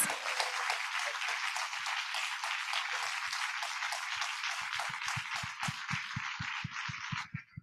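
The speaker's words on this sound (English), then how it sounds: "Let's give a round of applause" A film festival audience after a screening applauds in a full burst that thins out to a few scattered, closer claps near the end.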